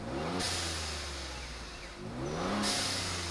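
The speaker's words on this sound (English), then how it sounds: "these Broncos from the factory sound kind of tame, kind of lame" A stock Ford Bronco with the 2.7L engine revs through its factory exhaust, a steady mid-pitched drone that climbs twice in quick blips, loud and close with no one talking.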